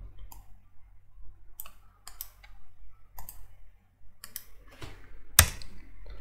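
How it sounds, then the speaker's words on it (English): Someone types on a computer keyboard, sparse separate key clicks in short bursts with pauses, close and fairly quiet, ending with a sharper louder tap. "so I'll just type my system name here."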